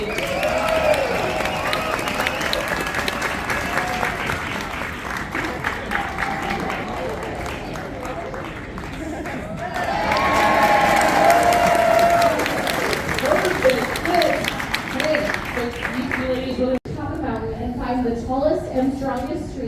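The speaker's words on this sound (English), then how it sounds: "give them some round of applause" Outdoors in Ketchikan, Alaska, a lumberjack show crowd claps and cheers continuously, swelling louder partway through, while an announcer keeps talking over the noise.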